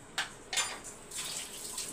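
Water is poured into rice inside an empty pressure cooker in a home kitchen, in a few short splashing bursts followed by a steadier trickle, close by, with no talking.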